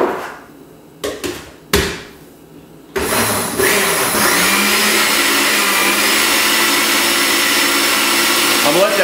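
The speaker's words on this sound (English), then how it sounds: "I'm gonna put this in the food processor and just pulse it for a little bit" Food processor pureeing an avocado mixture: a few short bumps and pulses, then the motor whirs continuously and loudly, close up, for the rest of the time.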